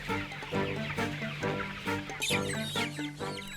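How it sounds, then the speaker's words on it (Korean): Broiler chickens about 24 days old cluck continuously and busily as they are herded into a wire cage inside a poultry house, many birds close together with no talk. "철망을 피는가 싶더니 닭을 철망 안으로 몰아넣습니다."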